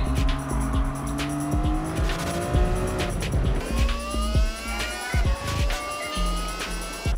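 BMW M3 racing in Gran Turismo 7 on the Dragon Trail circuit, engine revving up through gear changes, dropping under braking and climbing again, with tires squealing through corners.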